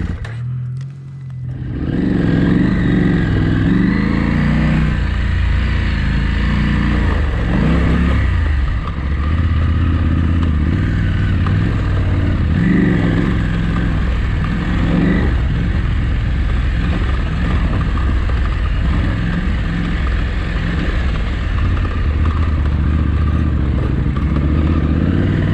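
A dirt bike engine runs steadily and loud throughout while riding a sandy desert wash, with a continuous close drone and clattering texture under occasional shifts in revs.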